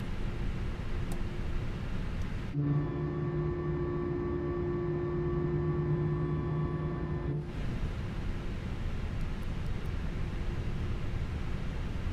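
An Airbus A319 engine running after start in Microsoft Flight Simulator 2020 gives a steady tonal whine and hum that holds for about five seconds, then cuts out, over a constant background rush.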